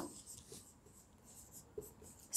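Handwriting during a Sanskrit lesson makes faint, scratchy strokes in short bursts, quiet and close, with no talking.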